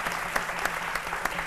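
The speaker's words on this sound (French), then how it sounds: "Merci encore et on peut les applaudir." A television studio audience applauds guests on a midday talk show, a short stretch of even clapping with a few sharper claps standing out.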